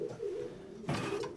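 Racing pigeons cooing softly nearby, a couple of low, throaty coos in quick succession, faint and without talk.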